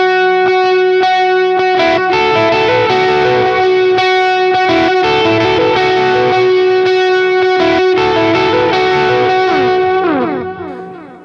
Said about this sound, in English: So you want a lot of drive for this sort of lead sound